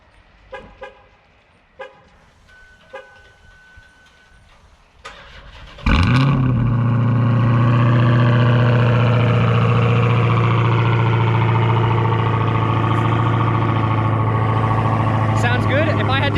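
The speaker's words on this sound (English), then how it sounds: "I thought you might like to hear a cold start." Dodge Hellcat with a resonator delete cold-starting: a few quiet clicks and taps first, then a sudden loud starter crank and roaring catch that settles into a deep, steady, rumbling idle up close.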